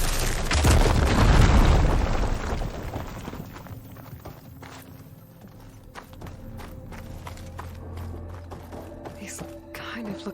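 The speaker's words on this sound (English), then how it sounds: "Explosion." A loud booming explosion in the video game Horizon Forbidden West bursts near the start and rolls off into a fading rumble, followed by lighter game sounds, footsteps and clatters.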